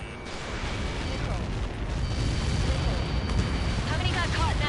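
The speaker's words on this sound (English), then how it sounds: "How many got caught in that explosion?" A huge in-game blast in Ace Combat 7 rolls out as a sustained, loud, rumbling roar that swells slightly over several seconds, with faint radio chatter and aircraft noise layered underneath.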